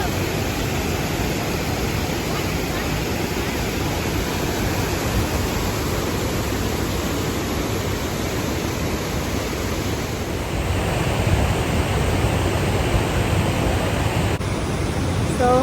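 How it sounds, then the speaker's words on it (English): A waterfall at a California hiking spot pours in a steady, dense roar of rushing water, continuous and fairly loud with no pauses and no voices heard. "We have made it to the waterfall, and it's so gorgeous."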